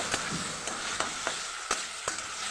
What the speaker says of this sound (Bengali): চিকেনগুলো যে মেরিনেট করে রেখেছি সেগুলো দিয়ে দিচ্ছি আর একটু নেড়ে চেড়ে নেব